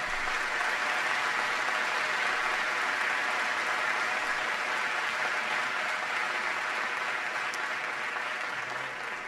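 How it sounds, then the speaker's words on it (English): An audience of young leaders in Argentina gives Celeste a sustained round of applause after her introduction, a steady wash of clapping that stays even and unbroken for several seconds. "Please give Celeste a big round of applause."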